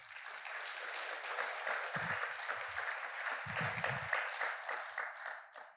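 An audience at a Korean lecture claps together in sustained applause, a dense steady patter lasting several seconds before tapering off at the end.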